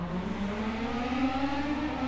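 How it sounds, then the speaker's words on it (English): Pro Mazda race cars rev their engines together at the start of a race at Road America. A dense, steady engine drone holds at fairly high volume with no talk. "The engines rev, the lights illuminate, and we go green for 14 laps of racing."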